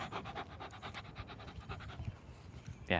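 A dog pants with its tongue out, quick rhythmic breaths close by and faint, ending in a brief scrape.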